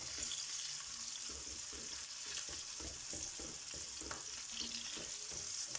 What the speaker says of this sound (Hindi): ये हमारा प्याज ब्राउन हो रहा है, हम इसको अच्छी तरह ब्राउन कर लेंगे।